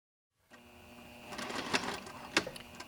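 A sewing machine stitches a seam on custom-made pants, running as a steady close mechanical whir with rapid needle clicks and a few sharper knocks, starting after a brief silence.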